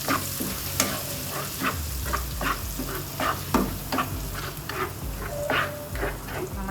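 Ground paste of onion, paneer and capsicum sautés in a pan for paneer masala, giving a steady close sizzle broken by scattered sharp spatula scrapes and taps, with no voices.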